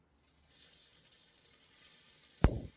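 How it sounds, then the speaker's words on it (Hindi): Rice frying in a pan for peanut pulao gives a faint, steady sizzle that runs for a few seconds. Near the end come a couple of sharp, loud scraping stirs, with no talking. "इसके बाद हम चावल को भूनेंगे।"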